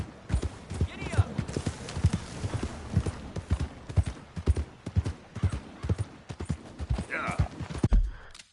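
Horse hooves clip-clop at a steady gallop in Red Dead Redemption 2, the rhythmic beats running throughout, with a brief whinny and occasional speech over the top.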